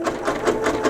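A sewing machine runs a large zigzag stitch over scraps of quilt batting, giving a close, steady rhythmic chatter with regular pulses.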